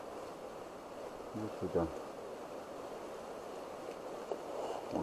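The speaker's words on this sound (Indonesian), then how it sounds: "Hujannya deras sekali, Lur." Heavy rain at night pours as a steady, broad hiss around the listener, with someone speaking briefly over it partway through.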